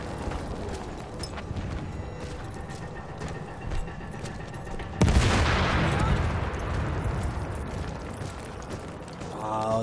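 Battlefield 1 gunfire crackles in fast scattered shots, then a sharp loud burst hits midway and leaves a dense rumbling barrage, with battlefield clatter in the background.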